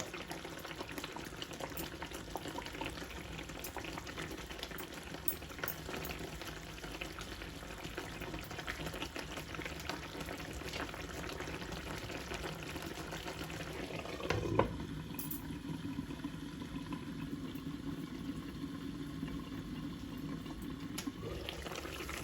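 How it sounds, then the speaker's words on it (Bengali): Aachari begun, pickled-spice eggplant, simmers in a covered frying pan over medium-low heat, with a steady soft bubbling and hiss that lasts throughout, broken once by a brief clank partway through. "এখন আমি ঢাকনা দিয়ে মিডিয়াম লো হিটে রান্না করব পানিটা শুকায় মশলাটা বেগুনের গায়ে গায়ে না হওয়া পর্যন্ত"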